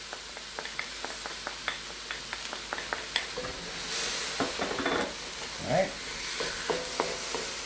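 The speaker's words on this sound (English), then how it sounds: "But always, always stir fry" Chinese broccoli (gai lan) stir-fried with sesame and oyster sauce in a hot pan, with a steady sizzle and a run of sharp utensil scrapes and taps, plus a brief louder spitting burst, and a voice speaking briefly.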